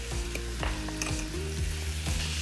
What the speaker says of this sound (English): We're gonna add 3/4 cup of sun-dried tomatoes